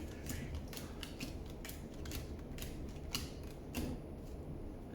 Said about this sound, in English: Now we're going to deal these out into 2 piles.